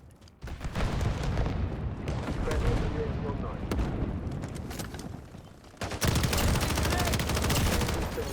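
Heavy gunfire and booming blasts from the Call of Duty: Modern Warfare 4 beta, a dense continuous barrage that swells louder near the end, with a voice speaking over the battle.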